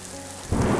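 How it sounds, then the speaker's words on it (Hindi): Heavy rain and a thunderstorm on a cold night in a cartoon story. A short, loud burst of rain noise swells in sharply about halfway through, with a deep rumble under it. "एक रात सर्दी के साथ बहुत साथ बारिश और तूफान शुरू हो गया।"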